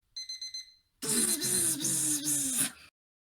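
An alarm clock lying on the floor rings loudly, opening with four short evenly spaced beeps, then after a brief pause a long, harsh, continuous blaring ring that pulses slightly before cutting off.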